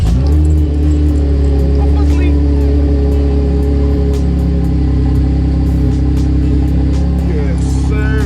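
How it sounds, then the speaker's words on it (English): A Jaguar F-Type R, a 2020 model, starts cold and revs in Miami, its loud engine a steady deep drone up close with some swelling, while voices are faintly heard under it. "Boy, that's some Miami cold start for you right there"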